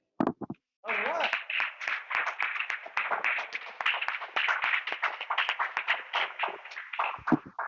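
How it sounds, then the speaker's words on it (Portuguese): A church congregation claps steadily for several seconds after a brief pause, an even, sustained patter of hands in a reverberant room, with a voice briefly audible at the start. "Podemos aplaudir isso?"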